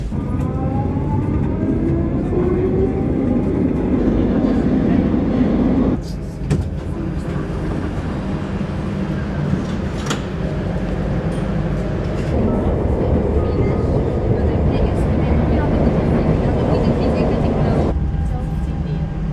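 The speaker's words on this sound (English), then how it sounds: "Well, there is a train coming." A train pulls into a Lisbon metro station, its loud rumble and screeching rising and swelling across the platform while people talk nearby.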